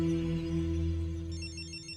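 A telephone rings, a call placed from a public PCO phone booth, with a steady electronic ringing tone that holds alone for about two seconds and then changes to a higher chirping pattern.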